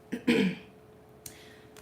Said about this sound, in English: Excuse me if you hear me coughing and possibly clearing my throat.